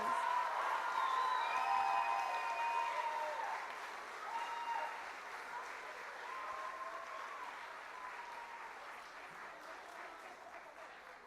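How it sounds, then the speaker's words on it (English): Audience applause at a school spring choir concert, sustained clapping that starts strong and slowly thins out over about eleven seconds, with faint voices and a few higher vocal sounds mixed in the crowd. "Give a round of applause to all of these hard workers"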